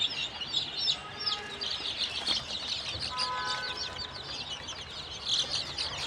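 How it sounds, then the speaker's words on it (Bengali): A flock of chickens cluck and peep busily during morning feeding, a continuous, moderately close chatter of short calls with a few drawn-out clucks. "আমার মুরগিগুলোর সকালে খাবার দিছিলাম, যে এখন মুরগি কত তৎপর দেখতেছেন।"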